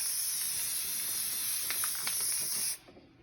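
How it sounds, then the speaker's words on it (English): A steady, close hiss of an aerosol can spraying continuously onto a clay pot bird bath, cutting off abruptly near the end. "all we're going to do is just spray"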